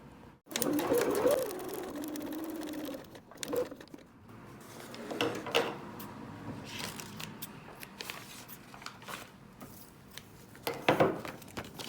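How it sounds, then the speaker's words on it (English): A sewing machine stitches a seam along a marked line through paper-pieced fabric, a fast mechanical whirring that runs in bursts with short pauses, fairly close and with faint talk mixed in. "So now we're going to sew on the line between section 2 and 3."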